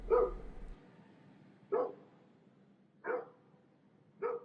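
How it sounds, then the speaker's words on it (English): A dog barks four times at evenly spaced intervals, each bark short and moderately loud, with quiet background between them and a brief low hum at the start. "I heard the barking as she dashed away and Ritchie's yell as he set off in pursuit."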